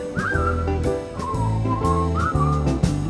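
A person whistles a bright, sliding melody in two phrases over steady band music with bass and percussion, performed on a Spanish late-night television show.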